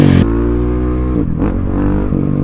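A modded supermoto motorcycle engine revs loudly up close, a sharp blip at the start, then a steady buzzing idle with a couple of quick throttle stabs.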